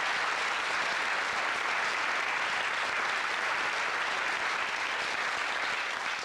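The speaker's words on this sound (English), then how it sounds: "Give her another nice round of applause" Studio audience applauding on a 1990 TV game show, a steady, dense wash of clapping that holds loud and even throughout with no voices over it.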